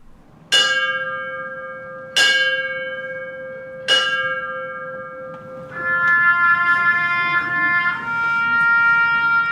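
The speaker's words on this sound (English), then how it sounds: "it is the mournful toll of the bell that solemnly precedes the announcement that a firefighter has died" A memorial bell for a fallen firefighter tolls three times, slow, loud and evenly spaced, each ring hanging and decaying before the next, followed by softer overlapping chimes.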